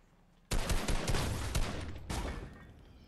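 An assault rifle in the Fortnite video game fires a rapid automatic burst, briefly pauses, then fires again in a shorter burst. The shots are sharp, close and dense, with no voices.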